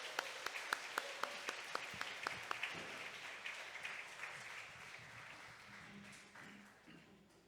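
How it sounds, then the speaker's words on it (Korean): A church congregation applauding its choir at a family worship service, a crowd of hands clapping steadily at a distance, fairly faint, with sharper individual claps early on before the applause thins and fades out. "애쓰신 우리 찬양대를 위해서 박수로 한번 같이 맞이해 주십시오."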